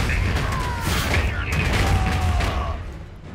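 Bombing runs in the Iron Harvest strategy game, heard as a loud, rumbling wash of explosions and scattered gunfire over several seconds, fading slightly at the end, under a player's voice.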